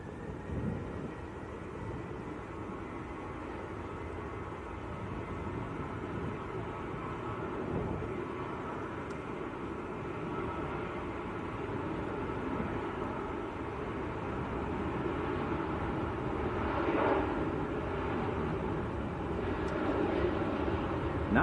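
A Ryanair airliner departs for Barcelona, its broad, steady engine roar building slowly and staying fairly distant throughout, with no talk over it.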